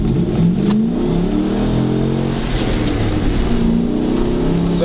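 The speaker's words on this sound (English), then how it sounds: "Here goes full throttle." A 2006 Dodge Dakota truck with a six-speed manual accelerates at full throttle on a straight, narrow road, its engine note rising loudly and steadily as the revs climb without a break.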